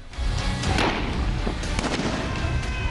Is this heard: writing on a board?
no